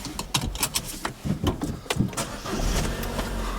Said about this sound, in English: We'll have the engine back on so we can have the cold air blowing.